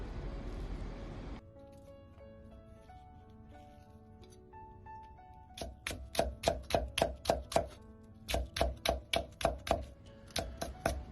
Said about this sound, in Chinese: 大葱1节切成葱丝